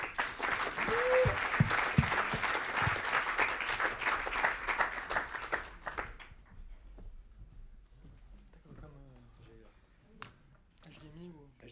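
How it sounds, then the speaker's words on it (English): An audience at a design meetup applauds a speaker as dense, steady clapping for about six seconds, then tapers into a few scattered claps with faint murmuring voices. "So a big round of applause for Jérémy."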